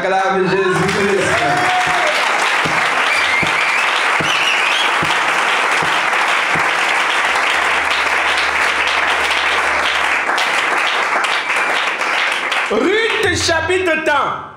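A church congregation applauds and cheers for Jesus Christ, sustained loud clapping from many hands for the whole stretch, with voices and a few shouts rising over it near the start and end.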